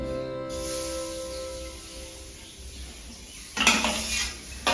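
Coconut and sugar mixed for sweet laru drop into a pan with a ringing metallic clink, followed by a soft hiss and a burst of scraping as the mixture is stirred nearby.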